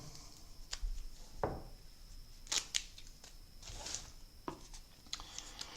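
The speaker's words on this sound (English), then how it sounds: "Let's go ahead and open up the second pack of cards here." Quiet close-up handling of a pack of cards for a Tragedy of Othello tabletop game being torn and unwrapped, with short crinkling plastic rips and a few sharp snips scattered through an otherwise hushed room.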